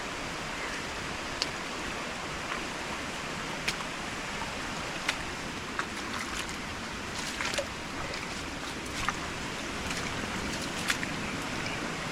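A cold stream of water flows steadily in the Konkan countryside during the monsoon, with a continuous, even rushing wash that holds the same level throughout and has a few faint clicks on top.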